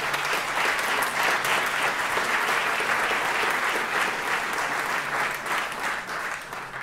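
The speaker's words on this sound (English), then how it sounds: "Could I ask you to give a round of applause there for our wonderful entertainers?" A large audience applauds entertainers from a Listowel traditional music group at a Kerry tourism event, a dense sustained wash of clapping that holds strong before easing slightly at the end.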